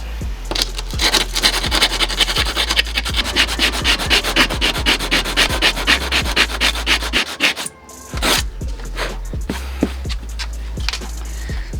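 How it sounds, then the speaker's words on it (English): An old sanding block with 60 grit sandpaper scrubs rust off metal in fast, loud back-and-forth strokes, pausing briefly midway before the rhythmic rasping resumes. "I have an old sanding block here. Just gonna start using this one just to get some of this rust out, or most of the rust out."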